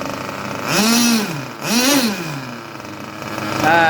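A Junkyard Mutt nitro engine mounted on a break-in stand rises and falls in two distinct rev swells, a buzzy whine that settles back to a lower run between them.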